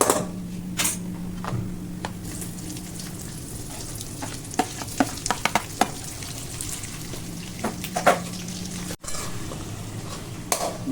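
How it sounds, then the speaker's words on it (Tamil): Prawns being mixed into onions fried golden in oil, with a crackling sizzle under frequent clattering stirs and spoon taps against the pan, close up and without voices. "இப்ப நாம வந்து இந்த பிரானை வந்து அதுல மிக்ஸ் பண்ணணும்"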